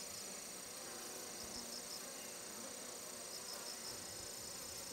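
Chinese hornets at a hive on Tsushima Island make a steady, faint insect buzz that drones continuously outdoors as they fight, with no talking.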